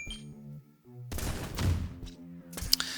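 Shotgun blasts ring out in the video game Pickle Pete, a few loud bursts in close succession among game sound effects and music tones.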